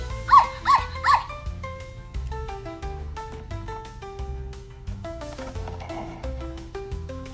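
A puppy dog barks three quick times near the start, then the rest is cheerful music with tinkly melodic notes and no further barking.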